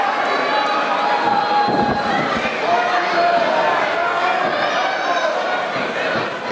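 A crowd at a wrestling street fight in St Ambroise reacts loudly and continuously with shouts, cheers and chatter, while a commentator talks over the noise throughout.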